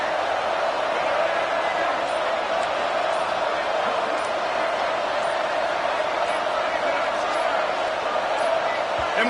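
A stadium crowd roars in a college football video game, a dense, steady, loud wall of cheering and noise that holds without a break from start to finish.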